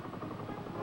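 Helicopter rotors from the Vietnam War, a steady rhythmic thumping of blades that holds an even level throughout the brief moment, with no voices.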